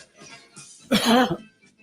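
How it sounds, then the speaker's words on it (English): One harsh, throaty cough bursts out close and loud after a moment of faint background murmur, then quickly fades. "do you have a cough due to cold?"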